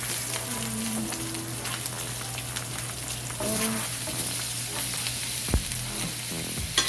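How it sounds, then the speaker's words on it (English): Pork loin frying in a hot pan with butter, garlic and thyme, a steady close sizzle and crackle of spitting fat throughout, with occasional soft scrapes of a basting spoon. "We're going to baste it in butter, garlic, and thyme."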